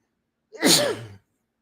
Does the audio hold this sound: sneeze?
yes